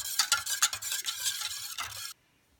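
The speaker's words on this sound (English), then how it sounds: "And now I'm going to stir it." Melted butter being stirred into waffle batter in a bowl, a brisk run of wet scraping strokes for about two seconds before it stops abruptly, close and fairly loud with no talk.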